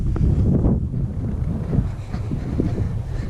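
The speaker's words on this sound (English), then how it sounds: "It's a little windy, so bear with me" Gusty wind buffets the microphone, a continuous low rumbling roar that rises and falls throughout.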